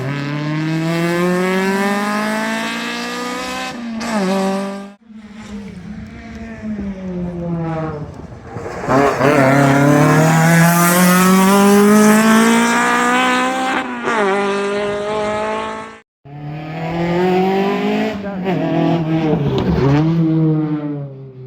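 Rally car onboard on a rough Galway rally stage, the engine loud and close as it revs hard through the gears, with brief lifts and gaps between bursts of acceleration.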